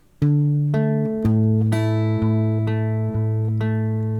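Plucked acoustic guitar notes and chords from a song ring out one after another, a steady measure of clear, close strums with sustained tones between each stroke.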